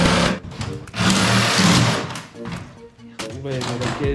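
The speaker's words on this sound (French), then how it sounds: "on coupe ça à la scie sauteuse" A power jigsaw buzzes in short bursts as it cuts through wood shelving, loud and close, with brief pauses between cuts.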